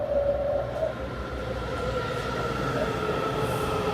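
Metro train passing close by, a steady loud rumble of wheels on rails with faint squealing tones, continuous for the whole stretch.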